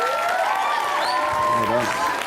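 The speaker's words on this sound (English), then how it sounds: "Round of applause." Applause rises in a school assembly, mixed with cheering voices and chatter from pupils, steady and fairly loud throughout the short burst.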